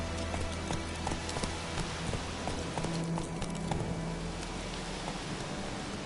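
Horse hooves gallop steadily in The Witcher 3: Wild Hunt, a fast continuous clip-clop under an even wash of background game sound.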